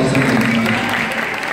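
Audience clapping on a stage during a tribute event, a steady wash of applause filling the whole short stretch with a low murmur of crowd sound beneath it.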